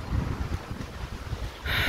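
Steady wind blowing outdoors on a warm evening, a broad low rumble of gusts buffeting the microphone, continuous and fairly loud with no voices.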